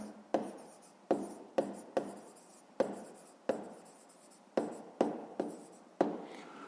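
A pen writes an answer on paper in a run of short, close scratchy strokes with brief pauses between them, quiet and alone with no talking.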